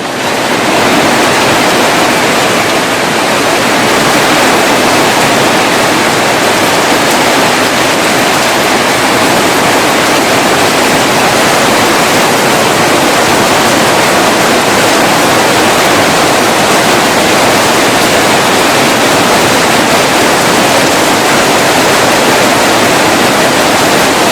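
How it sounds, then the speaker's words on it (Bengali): Heavy rain pours under a darkening sky as a dense, loud, unbroken roar of broadband hiss, steady for the whole stretch with no talk. "তো চারদিকে অন্ধকার হয়ে আসলো এবং বৃষ্টিও শুরু হয়ে গেল"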